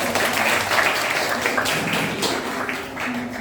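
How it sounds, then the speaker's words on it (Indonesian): Students in a classroom clap for a presenting group, a steady, moderately loud spread of hand claps with some sharper taps and no clear talk over it. "mari tepuk tangan dulu buat kelompok 1"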